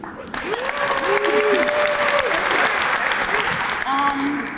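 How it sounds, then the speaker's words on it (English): Audience applause at a Black History Month closing ceremony honoring community figures, a steady wash of clapping with cheers and whoops rising over it, sustained throughout with a brief swell near the end. "Can we give a round of applause for me making it to 19, please?"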